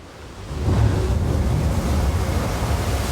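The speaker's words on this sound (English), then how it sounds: "As the waves crash against them" Ocean waves crash against rocks that have formed blowholes, a broad roaring surge that swells after half a second and holds steady and loud, with wind rumble and no voices.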